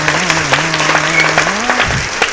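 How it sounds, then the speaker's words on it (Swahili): Crowd clapping in a comedic tenants' gathering, a steady dense burst of applause with a low hum and a faint voice-like tone running underneath. "Makofi kwa changamoto ya bomba."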